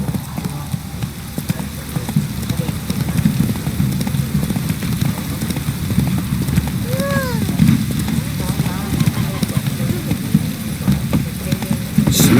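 Horse hooves pound at a steady gallop in The Witcher 3, a continuous close rhythmic clatter with gameplay ambience and a brief voice.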